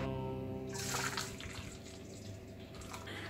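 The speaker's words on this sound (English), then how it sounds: "So that's 400 ml of boiling water." About 400 ml of boiling water is poured into a container for making lemon jelly, a soft splashing, running-water pour entering over a low background hum before easing off.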